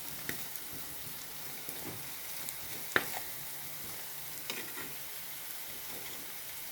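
Green chilies sautéing in a pan for a sardine curry, a soft, continuous frying sizzle with occasional light stirring taps and one sharper click, fairly quiet and close.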